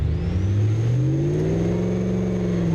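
A BeamNG.Drive car engine, cold and down on power, revs on a dyno run, a loud steady drone rising smoothly in pitch as it climbs through the gears, alone with no talking.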